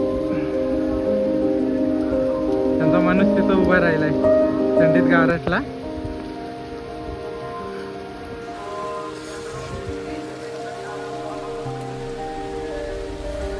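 Heavy rain pouring at Tirumala, a dense steady hiss of falling water with someone talking over it at first, then the downpour continuing alone.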